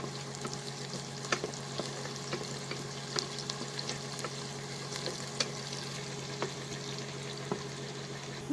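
Onion and garlic fry in hot oil inside a pressure cooker, a soft, even sizzle with scattered faint clicks and pops, heard fairly quietly and with no one speaking.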